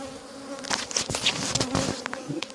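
A honeybee buzzes loudly and close by at a beehive, its drone wavering and rising as it moves about, with scattered rustling knocks underneath.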